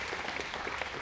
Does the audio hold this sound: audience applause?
yes